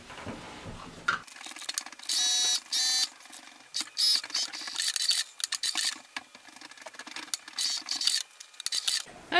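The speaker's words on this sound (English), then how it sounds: "I'm going to sew both side seams that way." A sewing machine stitches the side seams of a wrap dress, running in short mechanical bursts with pauses between them. The whirring and clicking sound close and moderately loud, and nobody speaks.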